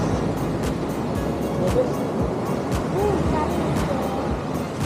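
Sea waves wash steadily near a mountain trail on Mt. Inapusong in Tolo. The surf rumbles continuously and is mixed with gusts of wind buffeting the microphone.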